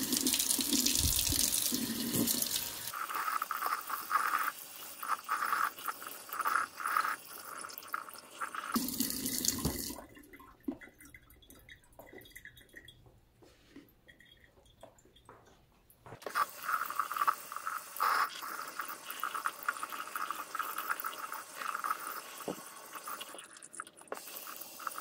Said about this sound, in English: I'm going to go ahead and rinse out the sails now.